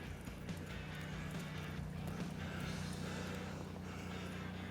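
A horse lopes through a fencing exercise in a cutting rundown, its hoofbeats a steady, continuous rolling rhythm close by over a low, constant rumble.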